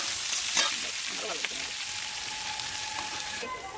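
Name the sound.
mustard paste and green chilli frying in a pan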